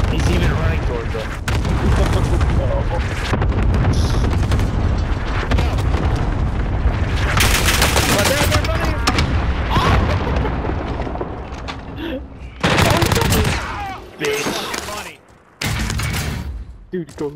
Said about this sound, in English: Designating target for airstrike. Fucking 8 missiles on this one guy.